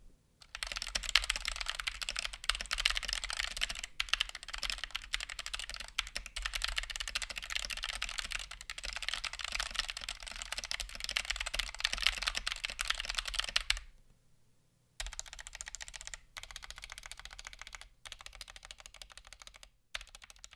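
A Punkston TH61 keyboard with stock optical switches is typed on in a fast, continuous stream of sharp, almost clicky keystrokes, close and clear, with a brief pause near the end before the typing resumes.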